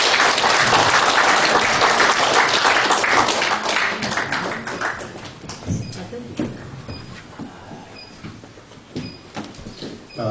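A lecture-hall audience at a political talk and book launch in Korea applauds to welcome a speaker, loud dense clapping for about four seconds that thins into scattered claps and light knocks as it dies away.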